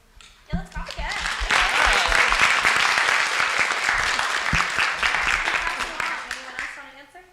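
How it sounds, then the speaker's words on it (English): An audience at a university research presentation competition final breaks into sustained, loud applause that swells quickly and holds steady for several seconds before tapering off, with a few voices faintly audible at the edges. "let's clap again."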